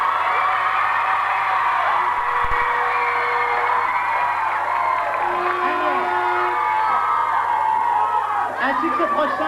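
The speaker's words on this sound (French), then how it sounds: "Mais oui, vous pouvez applaudir." An audience at a live radio show cheers and whoops in a dense, steady roar that holds for several seconds, with shouts and voices rising out of the noise.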